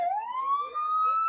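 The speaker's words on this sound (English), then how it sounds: "We hear your siren, bro." Police car siren at a Trump rally in the Bronx, New York City: a single loud, close wail rising smoothly in pitch and holding a steady tone, with no talk over it.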